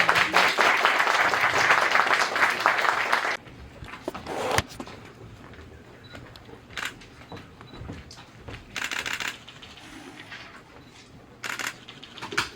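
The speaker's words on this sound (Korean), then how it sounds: "양 선수에게 응원의 박수 를 부탁드립니다" Audience applause at a combat sports press conference, a loud dense burst of clapping that cuts off abruptly after a few seconds, followed by quieter room noise with scattered claps and bumps.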